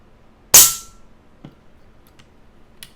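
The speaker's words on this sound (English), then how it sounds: "So let's do the 3 shots and let's see what we come up with." A single PCP airgun shot fired through a moderator cracks out sharply once, close and loud with a fast decay, followed by faint small clicks and near silence.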